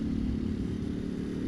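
A Ducati Panigale V4 SP2 motorcycle engine runs at a steady idle, a close, even low rumble that holds for about a second and a half without revving and without talk.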